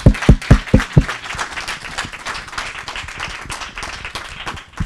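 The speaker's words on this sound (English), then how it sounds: "Let's join with warm applause for the team." Warm applause from an audience at a talk on trade and governance in the Somali economy, opening with several sharp, distinct claps close to the microphone before settling into steady, dense clapping throughout.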